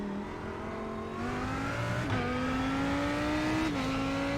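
A GT race car accelerating hard at Spa in a racing video game. The engine note climbs steadily and is briefly cut by two quick upshifts, a loud, continuous drone close by with no talk.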